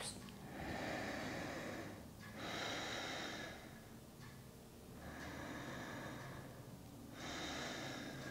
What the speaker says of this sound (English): Just 2 more deep controlled breaths.